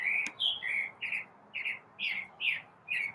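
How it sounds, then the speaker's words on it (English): A single songbird chirps loudly in the morning, repeating short bright notes about twice a second, close and clear with no other sound. "Yeah, Chirpy is loud this morning."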